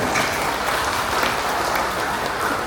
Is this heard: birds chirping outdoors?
no